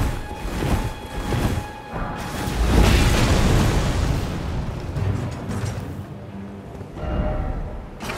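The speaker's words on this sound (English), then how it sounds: "Be wary of explosion." Explosions in the video game Elden Ring roll out as a string of loud, deep booms and rumbling bursts, swelling and fading over several seconds with no voices.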